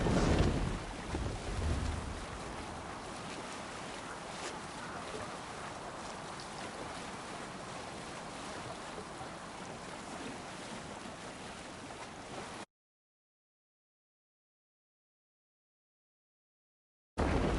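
Viking longship under sail at sea in Assassin's Creed Valhalla, a steady broadband wash of wind and surging water holding at an even level for about twelve seconds before a gap of silence, then resuming briefly.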